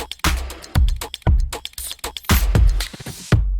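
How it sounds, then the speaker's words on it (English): Drum loop sample with punchy kicks and crisp hits in a steady rhythm, loud and close with no talking over it. "I took some time to drag in two samples from Splice, two drum loops that I really like."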